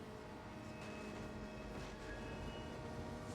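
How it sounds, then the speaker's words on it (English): A train rushes past in the racing game Need for Speed Underground on the original Xbox, a dense steady roar with rumbling low end, close and loud, holding throughout without any talk over it. "I had a feeling that that train was coming."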